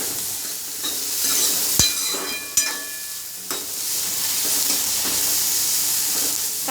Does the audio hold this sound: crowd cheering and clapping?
no